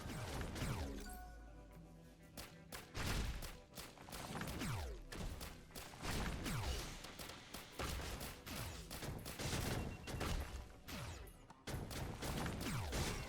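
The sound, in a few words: spike bomb explosions in video game Risk of Rain Returns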